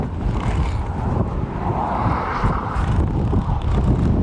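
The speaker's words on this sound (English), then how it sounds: "Some wind gusts almost pushed me down this ridge." Strong wind on a ridge at Nordkapp, Norway, buffets the microphone in a continuous roaring rush, with gusts swelling and easing throughout, loud and close.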